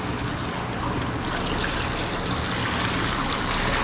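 Water pours steadily while aquarium fish, an arowana among them, are released, producing a loud continuous rushing splash with no pauses and no voices.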